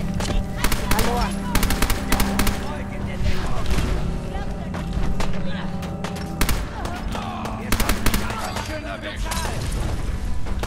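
Rapid gunfire in the video game Fallout 4, repeated sharp bursts of automatic shots spread across the scene over a steady background, with people talking.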